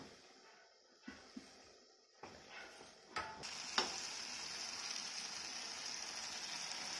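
Jackfruit jamun frying in oil over a low flame, a steady soft sizzle settling in after a few scattered clicks and clinks, continuous and moderately close.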